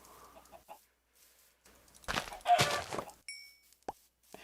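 Chickens in the Minecraft UHC game cluck in short bursts, with a pop of an item being picked up and a brief high chime, all fairly close and without talking.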